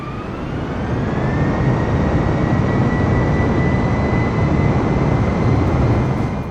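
A steady, loud engine drone with a rising whine from an airplane flying in Microsoft Flight Simulator, continuous and unbroken with no voices.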